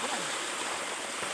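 A small waterfall with a fairly weak flow at a secret falls: a continuous, even hiss of splashing water, moderately close and steady from start to finish.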